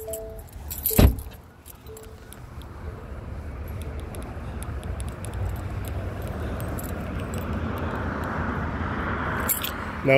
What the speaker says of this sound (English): that's just because those are my car keys